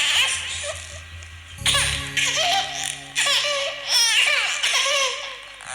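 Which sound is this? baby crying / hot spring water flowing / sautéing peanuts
baby crying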